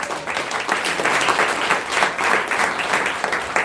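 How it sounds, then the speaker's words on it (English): An audience at a Professor Griff lecture breaks into sustained applause for Kalanji, a dense, steady wash of many hands clapping for nearly four seconds with no voices over it. "Let's give Kalanji a round of applause"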